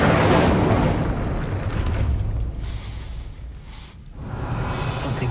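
Burst of a fire spell in a Harry Potter video game, a loud whooshing blast that swells at once and then trails off into a rumbling roar.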